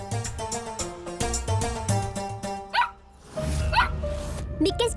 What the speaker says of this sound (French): Mais pourquoi est-ce que tu aboies?